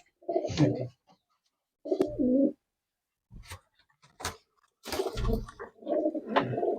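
Murshidabadi pigeons coo in short, throaty bursts, several calls close by with brief pauses between them.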